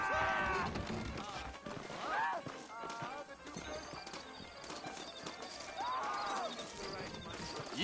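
Horses' hooves clip-clopping in the Western video game Red Dead Redemption, a steady rhythmic trot of several horses under a game soundtrack, with loud whinnies breaking through and people talking over it.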